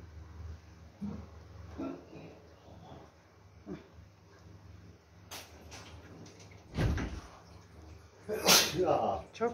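Someone sneezes once in a home kitchen during cooking, a short burst among people talking, with cupboard and door knocks around it.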